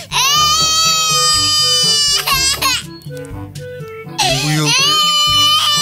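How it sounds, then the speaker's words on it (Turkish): A baby cries loudly and close by in a village kitchen at breakfast, wailing in long sustained bursts with a brief pause, while an adult speaks alongside. "Aşkım niye ağlıyorsun?"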